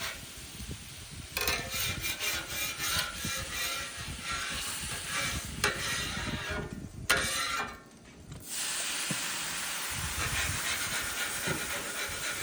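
Water hissing hard into steam on a hot Blackstone griddle after a Philly steak cook, a loud continuous sizzle that carries on steadily, dips briefly and then surges back.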